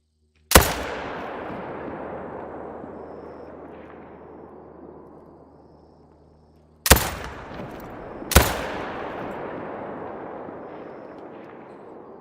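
Three loud rifle shots in the hunting video game theHunter: Call of the Wild, each a sharp blast followed by a long rolling echo that fades over several seconds, the first alone and the last two about a second and a half apart.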